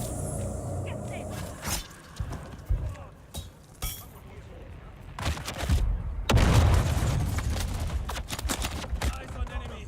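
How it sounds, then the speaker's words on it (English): A game grenade goes off with a heavy, rumbling boom about midway, amid scattered sharp gunshots, clinks and thumps in a busy combat scene, with voices speaking between the blasts. "Enemy sighted. Throwing grenade."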